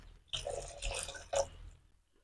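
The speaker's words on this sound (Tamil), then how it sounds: "கொஞ்சம் தண்ணி சேர்த்துக்கணும்." Water splashing and dripping into a pan of duck egg masala gravy in a few short bursts, fairly faint and close, with no talk.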